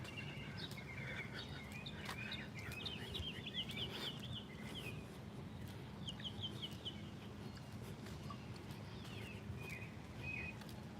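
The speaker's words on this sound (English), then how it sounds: "The birds are happy, they're chirping." Birds chirping outdoors with a chicken clucking among them, repeated bursts of calls over steady low background noise, moderately distant and with no talking.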